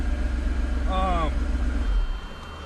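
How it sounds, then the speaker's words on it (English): A 1991 Mercedes SL500 engine runs quietly with a steady, smooth low rumble, joined briefly by a short tonal chirp partway through. "Engine kind of just purrs."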